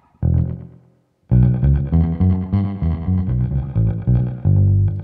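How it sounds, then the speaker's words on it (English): An electric guitar plays a chord and then a rhythmic strummed phrase through reverb and delay across the full signal, sounding loud, close and washy, with tails blurring between strums and no voices. "Let's try a bit of reverb and delay."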